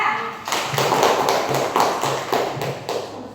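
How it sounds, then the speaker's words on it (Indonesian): A classroom group of students receives applause, with steady, fairly loud rhythmic clapping from a small crowd lasting a few seconds. "Beri aplaus untuk kelompok 2."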